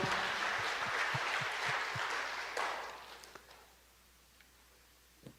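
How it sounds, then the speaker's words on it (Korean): A church congregation at a Korean Easter service claps, first in a few rhythmic beats and then in a burst of applause that fades to near silence, with a few scattered claps after. "우리 하나님께 박수로 영광을 돌립니다."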